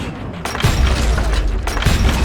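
Gunfire in Call of Juarez: Gunslinger, a few heavy booming shots with thumping low-end impacts over a dense action-game background, close and loud.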